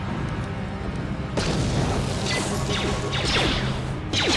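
A grenade goes off in Star Wars: Knights of the Old Republic, a loud crashing boom that bursts in suddenly and is followed by debris-like clatter and whooshes.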